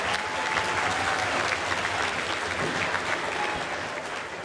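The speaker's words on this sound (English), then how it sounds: "Let's give another huge round of applause for our 4th, 5th, and 6th grade ensemble." An audience at a school band concert applauds for a 4th, 5th and 6th grade ensemble, a dense, steady wash of clapping in a hall that fades slightly toward the end.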